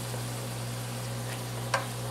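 Canned beans heat in a pan over medium heat, giving a soft, steady sizzle over a constant low hum, with one brief tap partway through and no talking.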